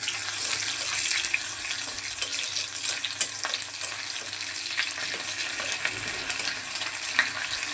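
Pressed dried fish (chapa shutki) goes into a pan of fried onion and garlic, producing a bright, continuous hiss and crackle with scattered stirring clicks, close up and steady, with no voices.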